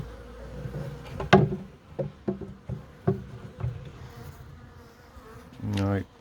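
Honey bees buzz around an abandoned hive being robbed, with a low hum and a louder buzzing pass near the end, mixed with several sharp wooden knocks and taps.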